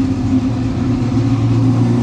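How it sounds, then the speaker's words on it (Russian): A white Ferrari fitted with an Akrapovic exhaust revs steadily and loudly nearby, its deep engine note holding a sustained droning rumble throughout with no talk over it. "Это все та белая Феррари, которая, я предполагаю, у нее выхлоп Акрапович."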